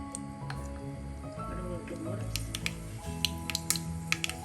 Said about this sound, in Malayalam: എണ്ണ ചൂടാകുമ്പോൾ അര ടീസ്പൂൺ കടുകിട്ട് പൊട്ടിക്കാം